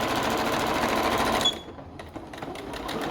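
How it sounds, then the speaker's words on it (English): A sewing machine stitches a shorts seam in a rapid, steady whirring chatter that runs for about a second and a half, then stops, leaving quiet handling noises and a faint restart. "we're just going to sew this all together"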